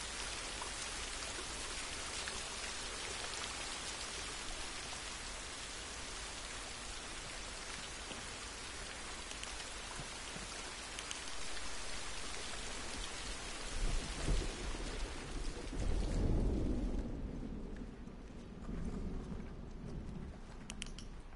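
Heavy rain pours in The Last of Us as a constant wash of noise, with a deep rumble of thunder swelling near the end.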